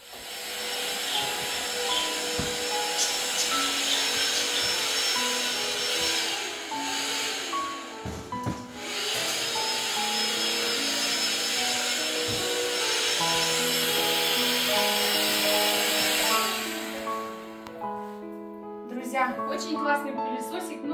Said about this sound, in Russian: Очень классный пылесосик, но не выгодный.